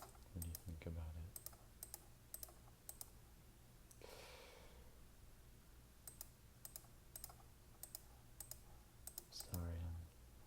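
A computer mouse clicks in quick scattered bursts while items are shuffled around a game inventory, with sharp close taps over a low steady hum and a short muffled voice-like noise partway through.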